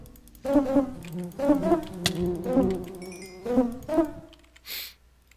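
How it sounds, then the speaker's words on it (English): Wasps buzz in a modded Minecraft game, a string of short, wavering drones in close succession that stop abruptly, followed by a brief hiss. "Yeah, die, bee. Wasp. Burn, you little wasp."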